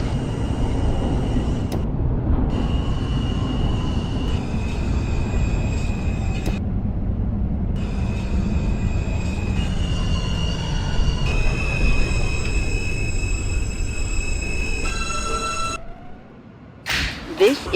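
A simulated R subway train in the OpenBVE simulator rolls along with a loud continuous rumble and rising and falling motor whines, then slows and quiets toward the end with a brief sharp burst.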